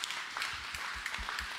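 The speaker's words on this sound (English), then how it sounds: "Round of applause to our grandparents." Church congregation at a Sunday Mass applauding grandparents, a steady wash of many hands clapping at moderate distance, brief and even throughout.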